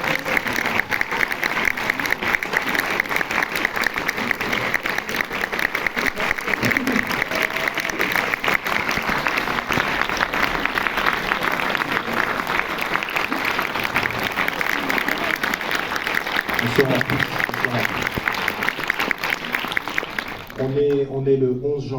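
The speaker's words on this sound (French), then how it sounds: "je vais vous demander un tonnerre d'applaudissements" A cinema audience at a film premiere in Ciné Cité Bercy applauds the film team with sustained, thunderous clapping for about twenty seconds. A voice breaks in as the applause fades at the very end.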